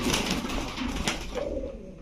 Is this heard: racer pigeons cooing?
yes